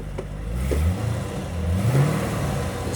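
A Corvette C6 Z06 engine catches and revs, a deep steady rumble rising in a couple of short throttle swells over three seconds. Nothing else is heard over it.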